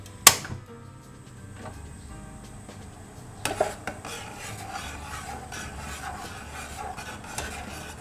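Dissolved starch slurry being stirred into a pot of Japanese egg soup (tamago soup), giving a near, scraping, rasping rub of a utensil against the pot, with a couple of sharper clinks, steady and without talk.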